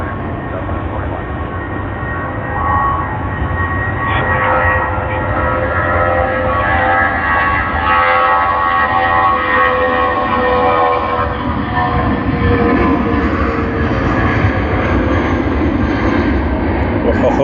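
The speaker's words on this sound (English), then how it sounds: "let us capture a few departures as well from runway 16 right" An aircraft taking off from runway 16R at Sydney Airport, a loud continuous engine roar that builds and broadens as it climbs away, heard from a distance and sustained throughout.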